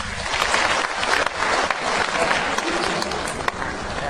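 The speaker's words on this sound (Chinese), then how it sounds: "现在我们掌声欢迎他们。" A concert audience at a Suzhou pingtan performance claps warmly and continuously as performers come onstage, a dense, even wash of applause throughout.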